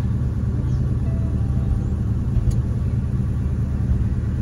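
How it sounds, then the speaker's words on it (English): A car engine idles with a low, steady rumble, heard from inside the vehicle, continuous and unchanging throughout. "Sitting here idling at this stop sign now"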